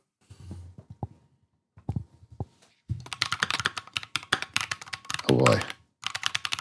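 Crisp clicky keystrokes from a mechanical keyboard clatter in a fast, steady flurry close up, after a few isolated taps and with a voice briefly mixed in.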